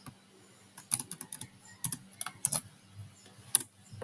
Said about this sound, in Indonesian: Pakai Ctrl C untuk copy dan Ctrl V untuk paste.